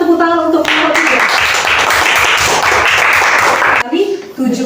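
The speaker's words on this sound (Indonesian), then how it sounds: "Berikan tepuk tangan untuk kelompok" Loud dense clapping from a school class applauding a student group, filling the room for several seconds between short stretches of talk at the start and end.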